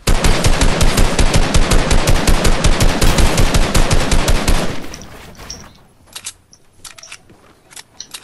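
Loud, rapid machine-gun fire in a video game, a dense unbroken stream of shots for several seconds, then it stops and a few scattered clicks and faint impacts follow in near quiet.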